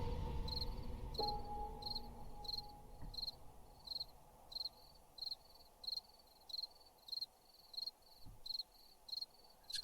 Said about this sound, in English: Just the crickets.